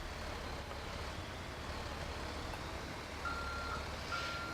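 A delivery truck in GTA 5 Online sounds its reversing alarm, a thin repeating beep that starts partway through and pulses evenly over a steady low engine and road hum, with no talking.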